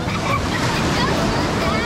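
Ocean surf rolling and breaking on a beach where boogie boarders ride big waves, a steady loud wash of broadband noise with some wind rumble throughout.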